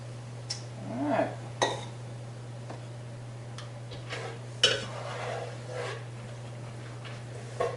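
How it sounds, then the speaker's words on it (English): Spoon or utensil clinking and scraping in a cooking pot of squirrel stew, a few scattered light taps and scrapes over a steady low hum, fairly quiet. "Now we stir this around real good, heat this back up to a boiling"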